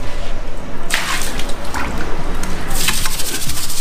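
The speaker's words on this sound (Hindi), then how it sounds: "यहाँ पे एक मग्गा पानी डाल इधर।" A mug of water is thrown onto a room floor during cleaning, giving two short splashing bursts about two seconds apart over a busy, noisy indoor background.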